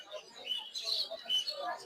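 Birds and pigeons at a bird market give thin, faint chirps and tweets that overlap in a busy, continuous twitter, with indistinct crowd voices underneath.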